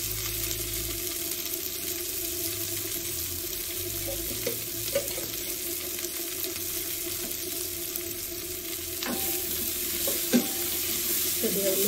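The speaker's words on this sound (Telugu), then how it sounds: "కొద్దిగా ఉల్లిపాయలు వేగనివ్వాలి." Onions sizzle steadily in a pan of oil while a salan-style curry is cooked, a soft continuous frying hiss broken by a few light clinks of a stirring spoon. It stays quiet and close, and no one speaks.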